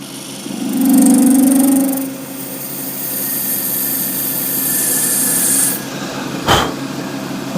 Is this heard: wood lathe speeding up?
yes